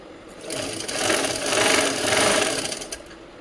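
A sewing machine runs steadily, stitching a puffed sleeve of stretched net fabric, its even whir rising and falling slightly in speed, close and alone with no voices.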